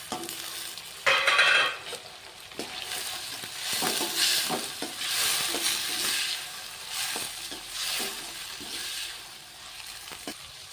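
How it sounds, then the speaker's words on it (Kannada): Chopped tomato hitting hot oil with peanuts for capsicum rice, a sudden loud sizzle burst followed by steady frying and repeated scraping stirs in the pan, close up. "ಟೊಮೊಟೊ ಹೆಚ್ಚಿಟ್ಕೊಂಡಿವಲ್ಲ, ಟೊಮೊಟೊ ಹಾಕೋಣ"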